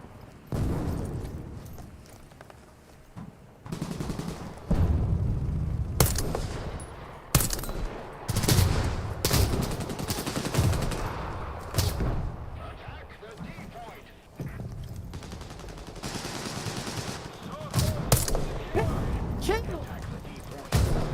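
Gunfire in the tank game War Thunder: bursts of automatic fire and sharp shots crackle near and far over rumbling battle noise, while someone talks over much of it.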